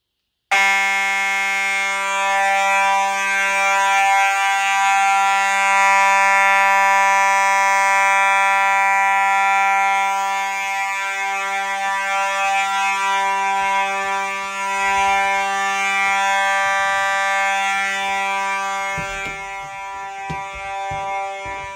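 A fire alarm sounds during a test, a loud, steady electronic horn tone holding continuously for about twenty seconds with no talk over it.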